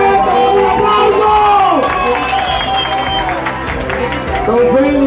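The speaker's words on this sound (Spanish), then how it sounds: "¡Un aplauso!" A crowd at a family gathering breaks into continuous loud applause and cheering, with whoops and a music-like tonal layer running through the clapping throughout.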